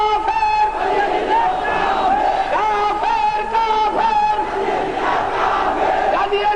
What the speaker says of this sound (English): The protesters have gathered to hear their neighbours denounced as heretics and